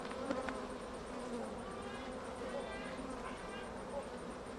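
Honey bees of a colony heavy with propolis buzz continuously at an open hive, a close, steady drone of many wings under low surrounding noise.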